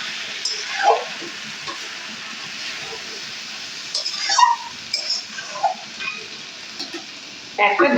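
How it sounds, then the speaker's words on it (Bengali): Cabbage curry being stirred as it fries in ghee, with soft scraping strokes and scattered bursts of sizzle over a steady low hiss, and a louder clatter near the end. "আর একটু ঘি একটু নেড়ে চেড়ে"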